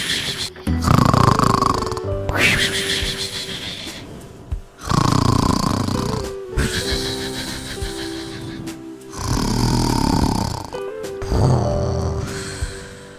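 A cartoon fox snores while asleep, loud rhythmic rasping inhales alternating with short pauses and exhales, about five snore cycles repeating evenly.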